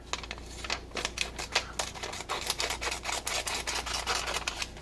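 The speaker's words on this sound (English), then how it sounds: "they're decently sharp. I mean, they'll actually, for example, they'll cut paper." Small scissors on a Gerber Dime multitool snipping through paper, a rapid series of crisp, sharp clicking cuts repeating steadily at close range for several seconds, with no talking.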